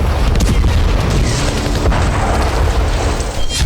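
Heavy wartime explosions in Ukraine form a loud, continuous rumbling roar with deep booming low end that barely lets up across the whole stretch, with no voices present.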